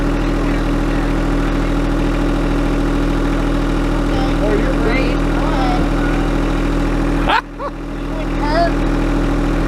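A tractor engine idles steadily with a low, even rumble and a humming drone throughout. Faint voices come through in the background, and there is a brief clunk near the end.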